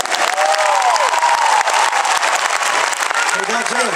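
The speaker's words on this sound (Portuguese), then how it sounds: "Uma enorme salva de palmas aqui para os meus amigos das caixas e dos bombos, pode ser?" Applause and cheering from a large crowd at a live concert in Guimarães, honoring the drum and snare players, sustained and dense with a tonal musical line and a voice briefly over it.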